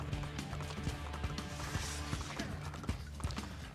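Horse hooves clip-clop in rapid, rhythmic beats during a ride in Assassin's Creed II, up close and steady, with a faint clatter behind them.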